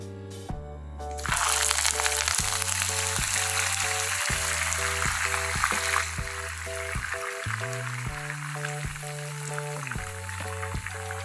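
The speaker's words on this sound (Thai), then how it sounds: "เดี๋ยวเราเอา ใบกะเพรา ลงทอดกันเลยครับ" Loud, steady crackling sizzle as Thai holy basil leaves hit hot oil in a hot wok, a continuous hiss with soft background music underneath.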